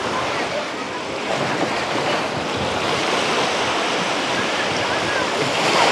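On an overcast day at Dzhemete beach in Anapa on the Black Sea, a light breeze rushes across the microphone over a steady wash of surf, loud and continuous with no breaks.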